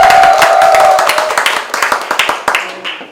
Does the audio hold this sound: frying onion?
no